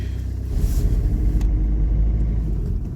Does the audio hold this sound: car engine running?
yes